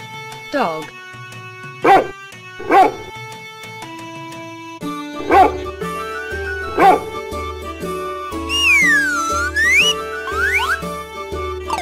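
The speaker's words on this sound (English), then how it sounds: "Dog." Cartoon dog barking in a children's animal-and-colour lesson, several short sharp bow-wow barks spaced over a bouncy backing tune, ending with whistly sliding tones.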